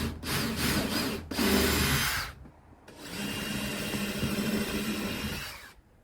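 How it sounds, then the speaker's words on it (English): A power drill pre-drills wood for upper cabinets in a Ford Transit van build, two close bursts of whirring with a short pause between them, no talk. "Pre-drilling definitely prevents"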